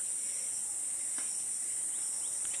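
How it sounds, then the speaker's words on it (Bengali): Crickets chirp on a cloudy, rain-damp day beside muddy village ground, a steady high-pitched trill holding evenly throughout at moderate loudness, with no talking. "ঝিঝি পোকার শব্দ শোনা যাচ্ছে কিনা জানি না।"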